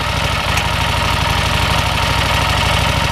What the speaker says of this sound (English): That's what a Harley Davidson 750 street rod sounds like.